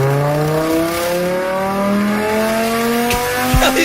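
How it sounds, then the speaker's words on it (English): A BMW fitted with a titanium exhaust revs hard and loud, its engine note climbing steadily in pitch with a sharp crackle near the end, and no voices over it. "Oh, BMW. Titanium exhaust."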